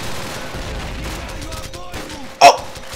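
Scattered gunfire rattles through Call of Duty 4 game audio during the Saving Nikolai mission, with a sharper, louder shot standing out near the end, under a low bed of battle noise and voices.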